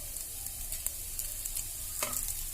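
Crushed cooked chicken frying in a pan, a steady close sizzle with light scraping and stirring clicks scattered through it and no voices.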